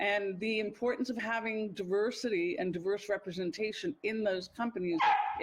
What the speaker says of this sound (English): So that is my dog barking